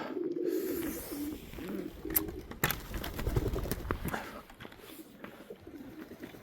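Pigeons coo repeatedly in a winter pigeon loft, a low throaty warbling near at hand that comes in soft, overlapping phrases against a steady background hum, with no one talking.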